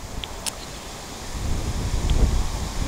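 Wind on a windy day buffeting an iPhone's external microphone, a low rumbling roar that builds in strength over a few seconds, with faint rustling and no talking.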